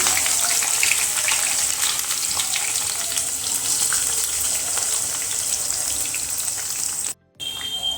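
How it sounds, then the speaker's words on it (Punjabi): Jackfruit pieces fry in hot mustard oil with a steady, dense crackling sizzle that runs close and loud, broken by one brief dropout near the end. "ਸਰੋਂ ਦੇ ਤੇਲ ਦੇ ਵਿੱਚ ਆਪਾਂ ਇਹਨਾਂ ਨੂੰ ਤਲ ਲਵਾਂਗੇ ਤੇ ਇੱਥੇ ਮੈਂ ਦੋ ਵਾਰੀ ਕਰਕੇ ਇਹਨੂੰ ਫਰਾਈ ਕਰਾਂਗੀ"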